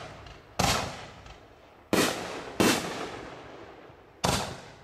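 Panic Attacks artillery firework shells bursting outdoors: four loud, sharp explosive reports, each followed by a crackling, fading tail, spaced irregularly with no talking.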